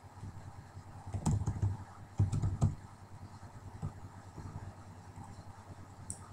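Keys tapped on a computer keyboard in short bursts of quick clicks with pauses between, fairly close and quiet, no voices.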